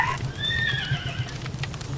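A synthetic, electronic-sounding neigh from an electric horse creature in the video game Palworld rises and trails off over a low humming background, with faint hoof-like taps.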